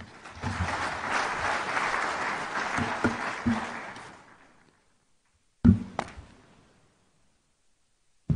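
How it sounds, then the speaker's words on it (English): A conference audience in Nairobi applauds after a presentation. Dense clapping holds for about four seconds and then dies away, followed by a couple of sharp thuds in the quiet. "One more round of applause for Colin Howell."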